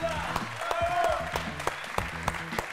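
Studio audience applause on a Greek TV show after a contestant's hot-pepper eating challenge, a steady dense clapping wash with some louder individual claps, while music plays underneath.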